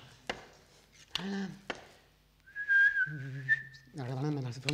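A person whistles two pitches at once, a steady high whistle lasting about a second, set between spoken passages and short bursts of voice.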